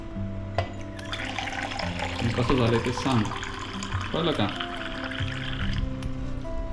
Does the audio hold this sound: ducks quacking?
no